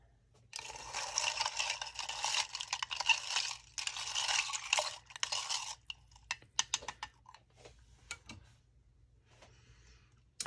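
A spoon stirs a liquid mixture used to rust metal. Several seconds of close, soft swishing and clinking are followed by scattered light taps, all quiet and without voices.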